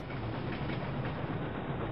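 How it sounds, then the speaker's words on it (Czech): A train rumbles along steadily in a Wolfenstein mod, with a continuous loud mechanical drone and low rolling rumble and no voices over it. "Vlak zajel do tunelu."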